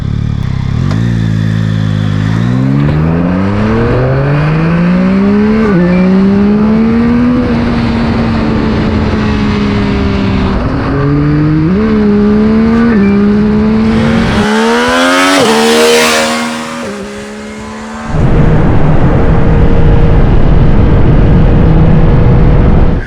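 A Yamaha MT-09 three-cylinder CP3 engine with automated manual transmission revs and climbs through gears, pitch rising and dropping with each shift, loud and close, then a whooshing rush and steady drone.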